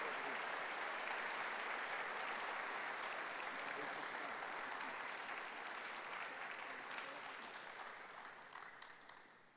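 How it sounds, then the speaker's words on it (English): Audience at a university athletics hall of fame induction ceremony applauding an inductee, a broad sustained wash of clapping that holds steady then slowly fades toward the end. "Big round of applause for Bob Barczak."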